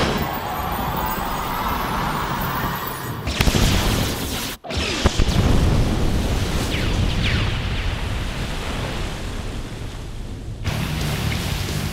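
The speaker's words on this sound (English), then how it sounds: "The explosion." Explosions from an animated Batman Beyond fight scene, loud roaring blasts and crashing debris, broken by a brief cut to silence before another heavy burst rumbles on.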